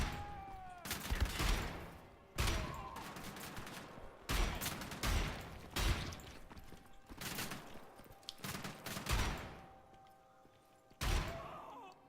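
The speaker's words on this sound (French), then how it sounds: "C'est le fusil à pompe." Shotgun blasts in the shooter Wolfenstein: The Old Blood, fired about six times at a steady pace, each a loud booming crack with a short decaying tail.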